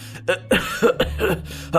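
Several sharp, close coughs in quick succession, a few harsh bursts with brief gaps, ending with one more cough.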